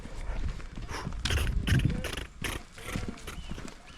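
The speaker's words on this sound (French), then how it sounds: "Il y a eu Dada, mon cheval." A horse's hooves clip-clop on a steep mountain trail along the Tour du Mont Blanc, irregular close thuds and scrapes with background rustling.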